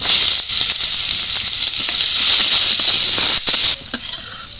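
Chopped onions frying in hot oil on top of sugar caramel for a Bengali-style rui fish curry, a steady loud hiss and sizzle with occasional crackles and pops, close up.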